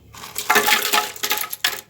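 Ice cubes tumble into a blender jar already holding milk, a few rattling, clinking bursts of hard cubes hitting plastic and each other over about a second and a half, close and fairly loud.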